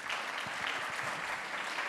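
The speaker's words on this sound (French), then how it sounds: "Je pense que vous pouvez les applaudir pour" An audience at a conference session claps for three speakers after their talks, a steady, moderately faint patter of hands filling the short stretch.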